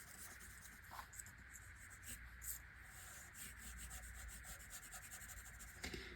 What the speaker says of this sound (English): with my 6B pencil, I'm just going to really lightly shade the marks that I can see.